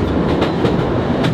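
A train running through the Scottish Highlands on the Glasgow to Corrour line, heard from on board as a loud, steady rumble with faint rhythmic clicks of the wheels.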